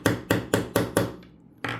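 Five quick, sharp hammer taps on a pin set into a bracelet collar ring out close and evenly spaced. A short gap follows, then a sixth strike.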